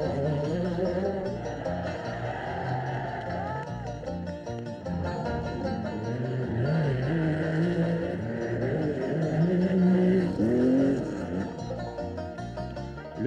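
Rally cars from a 1985 rally sprint race around the Nîmes arena past speed-breaking chicanes, engines droning and revving continuously with shifting pitch, loud and busy throughout.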